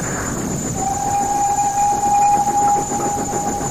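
A train runs steadily on a railway with a constant rumble, while a high, sustained whistle or horn tone holds across the passage, loud and close, with no voices.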